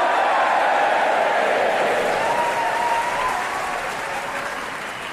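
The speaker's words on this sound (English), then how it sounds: "I suggest you give them all a cheer" Dense, sustained audience applause with a little cheering for orchestra musicians, loud and continuous throughout, gradually thinning toward the end, with no talk over it.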